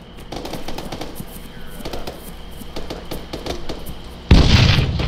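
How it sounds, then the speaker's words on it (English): AK rifle fire during an infantry field training exercise, heard as repeated sharp cracks at an irregular pace over a noisy outdoor background, with a sudden loud broadband blast near the end. "That's AK fire from the west."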